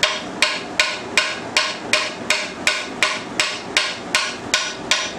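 Steady, evenly spaced claw hammer taps seating a part during a Saginaw three-speed transmission overhaul, about a dozen sharp metallic knocks in a regular rhythm, close and clear with nothing else around them.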